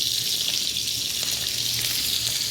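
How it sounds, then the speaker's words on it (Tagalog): Oil sizzles and crackles steadily as dried fish fries in a pan, a dense hissing texture with no talk. "umpisahan natin magluto ng tuyo"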